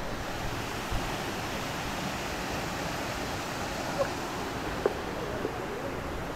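Steady, dense rush of a waterfall fills the scene, a constant broadband roar with a couple of faint clicks but no voices.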